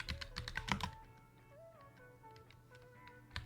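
Quick bursts of computer keyboard typing, close and fairly soft, fill the opening second and return briefly at the end, with quieter tonal sounds in between.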